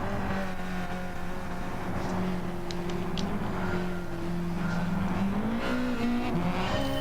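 Subaru WRX race car engines droning together at the start of a race in a racing video game at Monza, steady layered engine tones rising in pitch as the cars accelerate, with faint tire noise and no talking.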